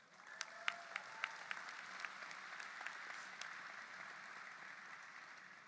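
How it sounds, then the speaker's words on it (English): A live audience at a Black/Pan-African graduation celebration applauds. The sound is a steady, distant wash of clapping with a few sharp individual claps early on, fairly faint overall. "so give yourself a round of applause."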